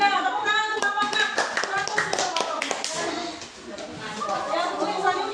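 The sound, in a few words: applause for a speaker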